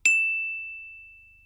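A single phone message notification ding strikes once, clear and close, then rings out as a pure tone that fades slowly over about a second and a half.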